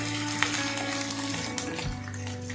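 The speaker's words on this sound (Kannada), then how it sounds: "ಸ್ವಲ್ಪ ಕರಿಬೇವಿನ ಸೊಪ್ಪು, 3 ಒಣಮೆಣಸಿನ್ಕಾಯಿ, ಇದನ್ನ ಒಂದು 30 ಸೆಕೆಂಡ್ ಫ್ರೈ ಮಾಡಿದ್ರೆ ಸಾಕು" Curry leaves and dried red chillies frying in hot oil give a soft, steady sizzle with faint crackles and small pops, fairly quiet and alone.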